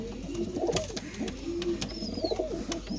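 Punjabi pigeons coo in soft, low, repeated calls close by, with a faint high chirp from another bird and a constant background hum, and no voices present.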